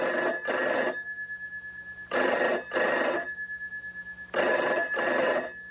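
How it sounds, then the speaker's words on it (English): A telephone rings in three clear bursts, each a loud, close double ring separated by short pauses, with no voices. "Pick up the phone."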